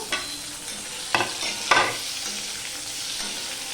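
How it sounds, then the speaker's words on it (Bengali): Boiled, cut potatoes fry in oil for a meat-free kofta curry. A low, steady sizzle is broken by three sharp bursts of crackling as the pieces are stirred or turned. "আমি সিদ্ধ করে কেটে রাখা আলুগুলো আমি ভেজে নেব"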